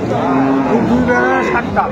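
A milking cow with her calf at a livestock market lows in a drawn-out, tonal moo that rises and wavers, close and fairly loud, with people chatting nearby.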